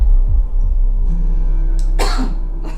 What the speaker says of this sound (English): I'm starting to cough.